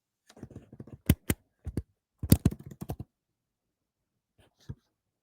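Typing on a computer keyboard, a quick run of close, crisp key clicks in two bursts, then a pause and a couple of lone final taps, with no talk over it.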